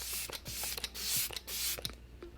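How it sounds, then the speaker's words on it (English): Several short airy bursts of Morphe Luminous Setting Spray misted from a pump bottle, spaced unevenly across a couple of seconds, close and fairly soft with no talking. "I'm gonna go ahead and just add some setting spray"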